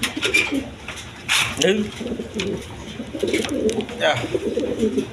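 A pair of Black Beauty pigeons coo in repeated throaty bursts, close and fairly loud, with a few softer chirps between calls and faint background noise.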